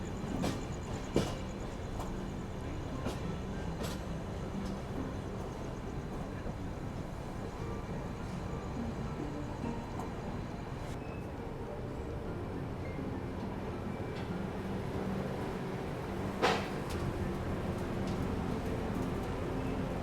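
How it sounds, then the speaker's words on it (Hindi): The Grand Trunk Express runs toward Chennai Central in the early morning. A steady rumble and rattle of the moving train sounds from inside, with occasional clanks and knocks over a constant low roar. "हमारी ट्रेन बिल्कुल बिफोर टाइम चेन्नई पहुंच रही थी"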